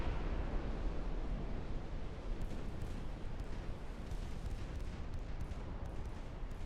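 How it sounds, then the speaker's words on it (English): A torpedo striking a warship in Ultimate Admiral: Dreadnoughts, a sustained broadband rumble of explosion and surging water, loud and steady throughout with no talk. "We took another torpedo."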